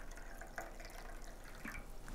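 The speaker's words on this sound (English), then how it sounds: "we are just going to pour it into our cup" French press coffee is poured into a cup in a faint, soft trickle with a few small splashy drips, quiet and close with no voices.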